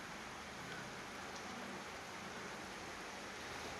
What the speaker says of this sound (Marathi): वरती पाऊसच बंद व्हाय नाही.